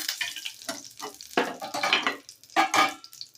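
A few spoons of oil sizzle in a hot kadai while a spatula scrapes and stirs it in short, uneven bursts, close and fairly loud, with no talking.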